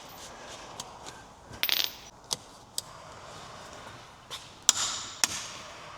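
Torque wrench tightening the front axle nuts on a 2002 Jeep Liberty during a wheel bearing job, a few sharp clicks and short ratcheting bursts, close and isolated.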